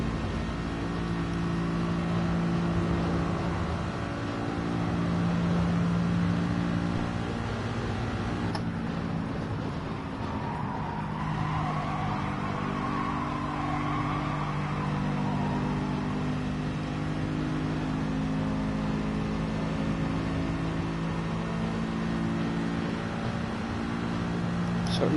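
A race car engine in Gran Turismo holds a high, steady whine that shifts pitch partway through, running continuously under frequent talk.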